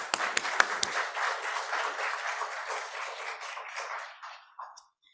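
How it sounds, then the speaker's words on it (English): An audience at a panel on African American changemakers in San Francisco applauds with a burst of clapping that holds steady, then thins out and fades to silence. "So can we give a round of applause for Dr."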